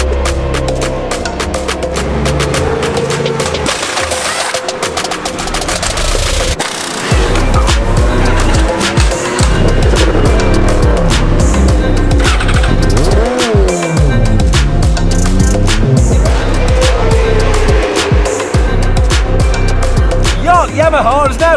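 Yamaha and BMW endurance racing motorcycles battle for the lead at the 24 Hours of Spa, engines screaming loud and continuous through rising and falling revs, with dense trackside roar throughout.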